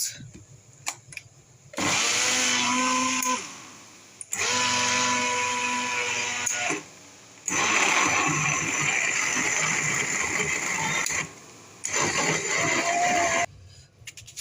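A loud motorized whir runs in several long bursts separated by short pauses, with a high, steady drone like a kitchen blender.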